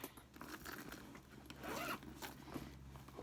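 The zipper pocket on a Coach bag is pulled open with a few short, scratchy zips, close and quiet.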